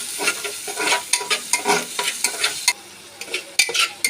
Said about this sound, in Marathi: हळद घालणार आहोत आणि मीठ घालणार आहोत आणि ते असं मस्त हलवून घेणार आहोत